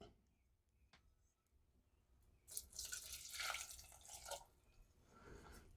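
Water pouring into a container while hibiscus wine is being made, a faint splashing trickle that swells and fades near the middle of the clip, heard alone in a quiet room.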